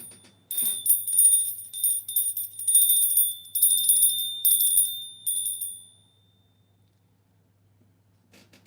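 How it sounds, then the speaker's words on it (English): A small bell, like a bicycle bell, rings repeatedly in quick bright bursts for about five seconds, loud and close, then stops and leaves near silence. "Let's ring the bell of happiness."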